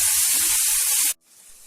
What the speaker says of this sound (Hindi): पहले कम से कम 2 से 3 मिनट के लिए हल्का सा टमाटर को भून लेंगे इसमें